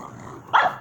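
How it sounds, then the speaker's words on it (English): A dog gives a single short, loud bark near the end, close by, after a quiet low background. "Why does this frickin' dog always gotta fucking stop barking?"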